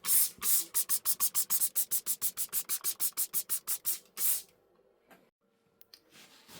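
About twenty quick, evenly spaced spritzes from a trigger spray bottle of air fryer cleaner for burnt-on grease, close and crisp, followed by a few faint clicks and quiet handling.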